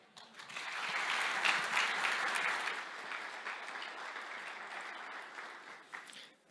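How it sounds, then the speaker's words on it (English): A conference audience in a large room applauds a speaker at a data science event, a steady, even wash of clapping that swells, holds and then trails off. "I would like to give a huge round of applause to Sasa Radovanovic"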